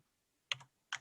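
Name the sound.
typing on a computer keyboard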